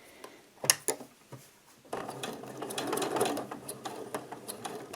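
Sewing machine stitching a baby quilt, a steady mechanical whir running continuously after a few short knocks and clicks at the start, close and moderately loud.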